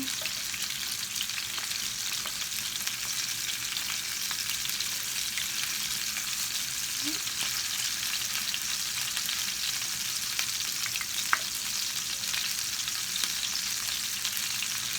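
Porcupine meatballs fry in a pan with a steady, dense sizzle and crackle that holds evenly throughout, with no speech.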